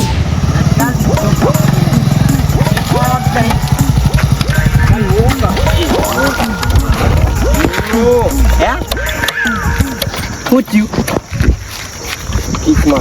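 A motorcycle engine rumbles steadily throughout, close and loud, while people talk over it.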